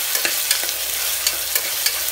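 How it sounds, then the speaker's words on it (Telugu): Ginger garlic paste frying in a pan, a steady bright sizzle broken by several short stirring scrapes, close and alone. "అల్లం వెల్లుల్లి పేస్ట్ కూడా వేసుకొని బాగా ఫ్రై అవ్వాలి."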